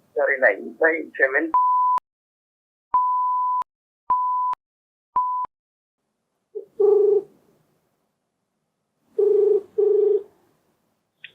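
A telephone call is placed and rings on the line: evenly spaced, steady electronic ringback tones repeat four times in a quiet setting, with short voice sounds before and after.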